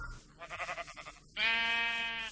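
A sheep bleats in a video game, a short wavering call followed by a louder, sustained nasal bleat, close and clear.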